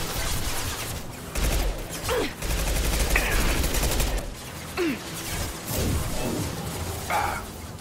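Gunfire from a battle in the Mass Effect 2 video game, with dense fusillades of weapon shots rolling almost continuously and loud, punctuated by heavier bursts and brief pauses, with faint game voices shouting in between.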